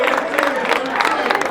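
A seminar audience cheers and whoops loudly and continuously for the winners of a rock paper scissors round, a dense wash of overlapping voices with no single speaker standing out.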